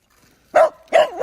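A dog gives three barks close by, two sharp ones and a shorter third, during a walk in a quiet outdoor setting.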